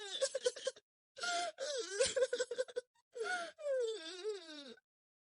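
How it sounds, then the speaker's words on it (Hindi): A fairy with a broken wing cries in a forest, voiced as a series of wailing, moaning sobs in several separate bursts with gasping breaks between them, close and fairly clear. "उसे रोने की आवाज आती है"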